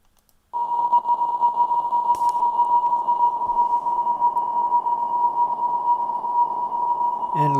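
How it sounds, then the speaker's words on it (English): A sustained synthesized note sits inside a very long digital reverb from the Dual Matrix Reverb plugin, a smooth, steady pure-toned wash that begins abruptly and holds without vibrato, loud and alone. "the super long reverb impulse will sound like this"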